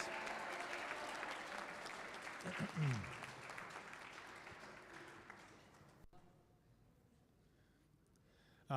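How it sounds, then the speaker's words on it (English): Audience at an eighth-grade graduation ceremony applauding a student, a steady round of clapping that swells briefly then tapers and fades out, with some voices mixed in near the start. "let's give him a nice round of applause"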